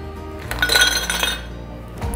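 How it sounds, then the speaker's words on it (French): Ice cubes dropped into a cocktail glass after basil while making a summer vodka cocktail, a brief cluster of bright glassy clinks and rattles, close and fairly loud, with no talking. "En numéro 1, après avoir mis le basilic, c'est les glaçons."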